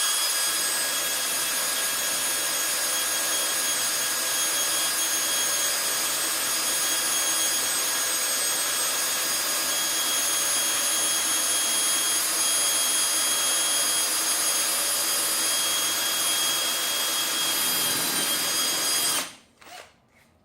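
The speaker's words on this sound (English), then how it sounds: "You do want to make sure that you're drilling perfectly straight." A power drill whines steadily for a long stretch, grinding through material at constant speed before abruptly stopping near the end.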